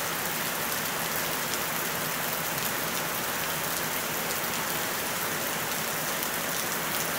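Steady rain falls on a rural property in Espírito Santo, Brazil, after a long drought, a dense even patter of drops on surfaces that continues without pause and with no voices.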